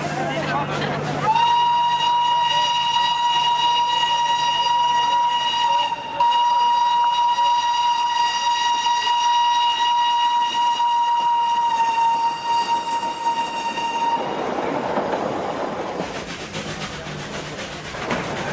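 An Indian railway train passes with a long, steady horn blast lasting over ten seconds, above a loud, continuous rumble of wheels and carriages.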